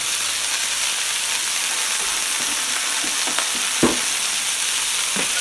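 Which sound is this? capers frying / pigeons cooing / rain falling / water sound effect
capers frying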